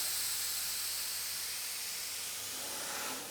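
Gray and black spray paint hissing steadily from a can onto a surface, a continuous close, fairly loud spray that carries on unbroken and tapers slightly near the end.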